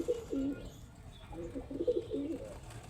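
Pet pigeons in a home loft coo softly in short, throaty bursts, a few calls close together over faint background noise.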